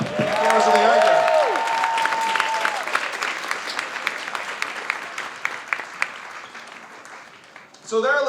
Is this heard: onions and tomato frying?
no